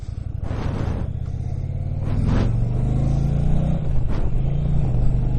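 A 2020 Indian Challenger motorcycle in sport mode accelerates hard, its deep engine rumble rising in pitch through several surges with brief throttle shifts between, loud and close with wind buffeting and no talk.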